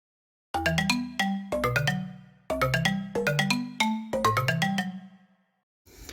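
Strummed chord melody built from stock plugins for an Afrobeat and dancehall beat, bright plucked tones rolling up each chord in a repeating pattern of five strums with short gaps, clean and alone.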